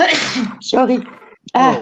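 A single sharp sneeze bursts out after a woman apologizes, followed by more speech; the sneeze is brief and close, sandwiched between talking on a livestream.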